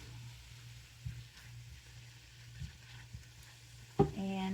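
Noodles frying in a pan, thin Asian-style noodles for a chicken stroganoff dish, giving a low steady sizzle with a few soft stirring bumps and a sharper clatter near the end.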